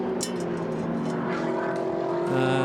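A GT race car from the AF Corsa team, driven by Mario Cordoni, sweeps past on the Algarve circuit, a steady engine drone building toward a louder surge near the end.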